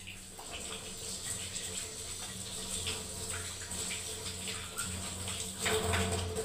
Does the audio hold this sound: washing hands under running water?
yes